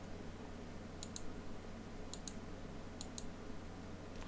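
A computer mouse clicking while working in Photoshop: crisp, faint double clicks in three evenly spaced pairs over a steady low hum, with no talk.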